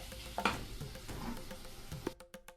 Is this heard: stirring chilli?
yes